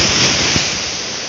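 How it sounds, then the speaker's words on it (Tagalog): Heavy sea waves surging and breaking near a rural Philippine coastline by a highway, a loud continuous broadband roar with no voices. "grabe lang ng alon"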